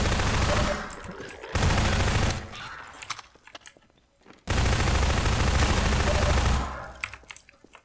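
Bursts of automatic gunfire from enemies shooting at the player in a first-person game, two loud sustained volleys separated by a quieter gap with scattered distant shots, no voices.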